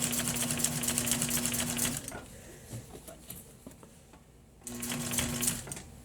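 A sewing machine stitches a box cushion, running in a fast, steady whir for about two seconds, pausing briefly with faint handling sounds, then starting up again, close and fairly loud.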